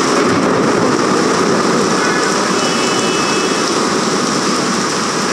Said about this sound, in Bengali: হঠাৎ করে এই যে জোরসোর বৃষ্টি বাতাস